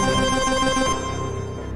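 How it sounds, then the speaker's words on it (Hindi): A phone's video call ringtone plays loudly and close, a bright electronic melody with repeating tones that ends partway through, leaving a steady hum. "आकाश का वीडियो कॉल, लेकिन ये तो कभी मुझे वीडियो कॉल नहीं करता।"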